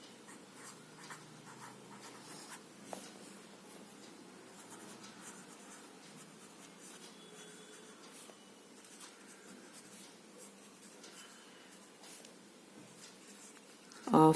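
A pen or pencil scratches steadily across paper while roughly sketching a hexagon, soft close strokes continuing with brief pauses and no talk.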